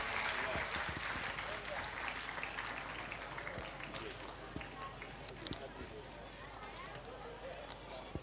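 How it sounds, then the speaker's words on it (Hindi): An audience at a school storytelling competition prize ceremony breaks into loud clapping that gradually thins out into scattered claps, with some talk underneath. "जोरदार तालियां बजाकर इनका हिम्मत अफजाई करिए।"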